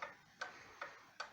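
A Seth Thomas gallery wall clock from around 1910 ticks four times at an even pace, each tick crisp and quiet against a hushed room.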